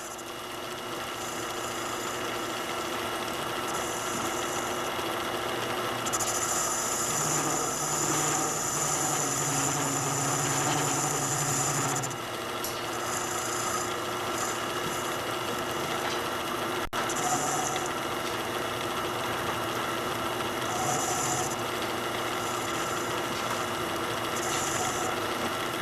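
A Q Lathe Model B faces the front of a small square workpiece, giving a steady machine hum with a continuous light rasping cut, taken slowly and at low speed over a long stretch.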